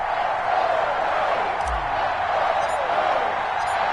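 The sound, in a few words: stadium crowd cheering in EA Sports NFL video game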